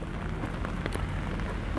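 Heavy rain pouring outdoors, a dense, steady hiss of drops hitting surfaces, close and continuous with no talking.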